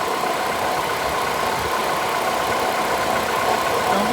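A 2012 Ford Escape idles with its AC compressor engaged, a steady mid-pitched engine drone with a constant hiss and hum running evenly throughout, close and unbroken, no talking.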